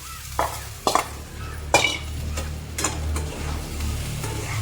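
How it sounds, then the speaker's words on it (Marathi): Spiced ridge gourd stirred in a pan, the spoon scraping and knocking against the metal in a few sharp strokes over a low sizzle, with no voices. "चांगलं मिक्स करून घ्यायचं"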